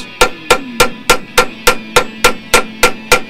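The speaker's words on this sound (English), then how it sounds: "So I just use a ball peen hammer, a small end, and then just moderate taps" The small end of a ball peen hammer gives eleven moderate taps at an even rhythm, peening over the soft, unhardened tang of a handmade knife, each strike sharp and close with a brief ring, no talk over it.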